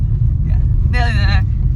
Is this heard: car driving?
yes